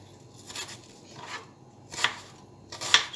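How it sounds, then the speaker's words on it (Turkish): A knife chops an onion on a cutting board with a few spaced, crisp strikes over a low background hum. "Soğanımızı hemen kestikten sonra salatamız tamamlanmış oluyor"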